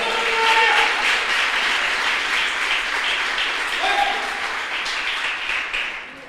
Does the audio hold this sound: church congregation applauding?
yes